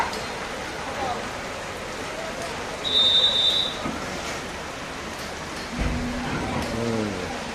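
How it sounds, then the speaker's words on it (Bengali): Heavy rain pours down with a steady, dense hiss, a short high whistle rising briefly above it, and a voice speaking near the end. "এই বন্ধুরা দেখেন কি বৃষ্টি কি বৃষ্টি সেই বৃষ্টি হচ্ছে"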